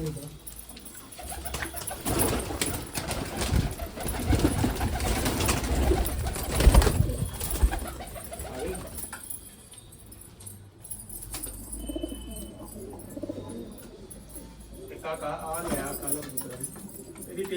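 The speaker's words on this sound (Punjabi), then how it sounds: "ਲੋ ਸਾਰੇ ਕਬੂਤਰ ਗੁੜਕਣ ਦੇ ਮਸਤੇ ਪਏ" Teddy golden pigeons coo together in a loft, a dense murmur of calls with wing flaps and scuffling that is loudest early on and quieter later, under occasional speech.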